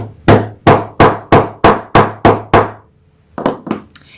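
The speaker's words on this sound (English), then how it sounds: "I just use a little hammer to install my snaps" Eight sharp, evenly spaced taps of a small hammer setting a snap fastener on a sewn wristlet key fob or mini wallet, then a short pause and a few quicker, lighter taps, close and loud.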